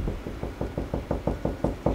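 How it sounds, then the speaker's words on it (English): Someone knocks on a drywall to find a stud while mounting a TV: about ten evenly spaced, hollow knocks, close and moderately loud, with no talking. "You can knock on the wall too."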